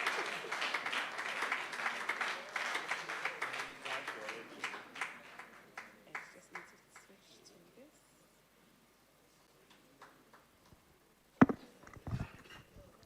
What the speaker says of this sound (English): please let's keep clapping for him.